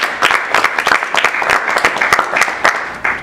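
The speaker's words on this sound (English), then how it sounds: "Can we get a round of applause for Glenn?" Audience at an employer panel discussion applauding a panelist, steady dense clapping from a group throughout, fairly loud and close.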